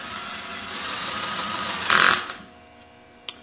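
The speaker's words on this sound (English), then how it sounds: "Set the electric screwdriver on the lowest torque setting" Electric screwdriver set to its lowest torque running screws into an engine crankcase: a steady motor whir for about two seconds, rising to a louder burst near the end, then stopping, followed by a faint click.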